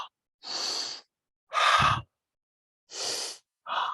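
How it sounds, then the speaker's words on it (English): Four audible breaths drawn in through the mouth as part of a guided breathing technique, each lasting about half a second with short silent gaps between, close and fairly soft, with no talking. "it's 3 breaths in through the mouth, going E"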